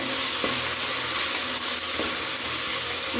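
Ground spice paste for fenugreek-leaf rice frying in oil in a pan while being stirred: a close, steady hiss and sizzle broken by a few soft scraping strokes, with no voices.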